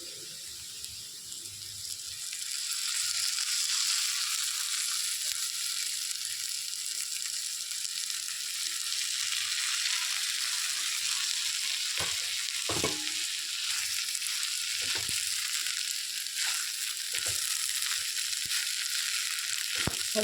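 Sabudana khichdi frying in a pan over low heat, a steady broad hiss with occasional sharp scrapes and clicks of the stirring spoon against the pan in the later part.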